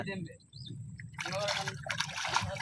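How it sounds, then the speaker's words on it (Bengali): Water is bailed out of a village boat, giving a burst of splashing and sloshing in the second half, preceded by quieter trickles, with people talking nearby. "পানি সিঁচছে"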